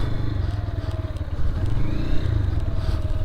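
A Lifan KP Master KPM200 motorcycle creeping along at slow speed, its steady single-cylinder engine chugging close and loud, with a slight rise in revs partway through.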